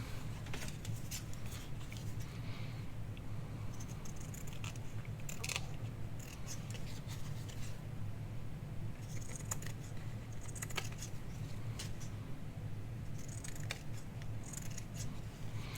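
Scissors trim fabric close by in a quiet room, giving a scattered run of soft snips and clicks over a low steady hum.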